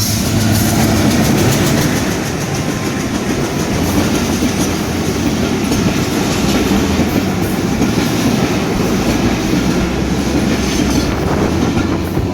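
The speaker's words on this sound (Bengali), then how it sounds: "পঁয়ষট্টি সাত সিরিজের লোকোমোটিভ নিয়ে গোবরা থেকে সেরে আসা রাজশাহীগামী সাতশো তিরাশি up Tungipara express Azimnagar rail স্টেশনের দুই নম্বর লাইন দিয়ে থ্রুপাস করে চলে যাচ্ছে" The 783 Up Tungipara Express, hauled by a 6500-series locomotive and bound for Rajshahi, passes at high speed through Azimnagar station on line two: a loud, continuous near roar with rhythmic wheel clatter and faint squeals.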